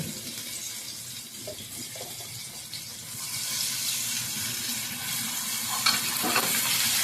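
Sliced onion frying in a pan with ginger garlic paste, stirred as it cooks: a steady soft sizzle with occasional scraping and clinks, growing a little louder and brighter toward the end, without any voices.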